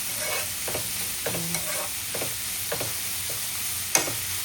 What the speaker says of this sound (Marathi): मस्त कांदा शिजवून घेऊया थोडासा.